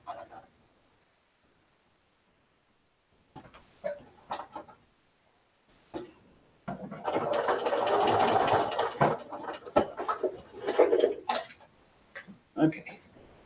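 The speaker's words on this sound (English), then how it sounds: "I am going to sew this down." A sewing machine stitching a quilt runs in short bursts and then a longer steady hum of rapid ticking, close by, with a person talking around the stitching.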